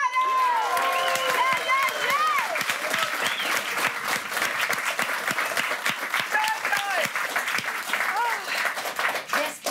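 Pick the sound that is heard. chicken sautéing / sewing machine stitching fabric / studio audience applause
studio audience applause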